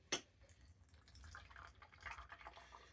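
Hot Ben Shan oolong tea is poured out, a faint liquid trickle and drip close by after a sharp initial clink, quiet and alone.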